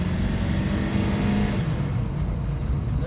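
An Enterprise rental car climbing an incline with a faulty transmission that will not shift, its engine a steady, sustained low drone and road rumble that holds one pitch without a gear change.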